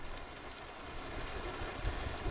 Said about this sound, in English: Dry one moment, torrential rain like a minute later.